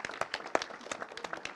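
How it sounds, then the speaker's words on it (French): Sparse, scattered hand claps from a small audience at a masterclass on video game writing, a handful of uneven individual claps rather than full applause. "notre collègue de 3IS Lyon, Laetitia Groux, si on peut l'applaudir aussi."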